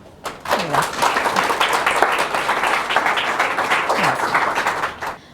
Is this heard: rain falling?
no